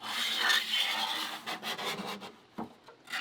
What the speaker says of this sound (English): I'm just going to use a scraper.